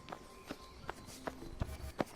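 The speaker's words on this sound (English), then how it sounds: "I heard footsteps running towards me." Footsteps run along at an uneven pace, about eight distinct thuds over two seconds, each crisp and close against a faint hum.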